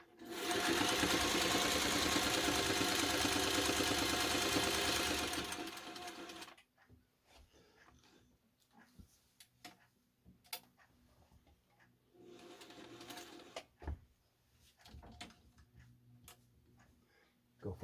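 A Singer 301 sewing machine runs fast and steadily for several seconds with a busy mechanical whir, then stops and starts in shorter bursts with quiet ticks and clicks between them.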